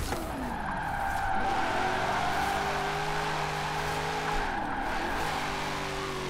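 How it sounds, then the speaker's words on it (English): A C8 Corvette drifts in Forza Horizon 4, its engine droning continuously while tires squeal and skid loudly through a long slide, with pitch shifting as the car straightens out. "this is not the easiest car to drift right now."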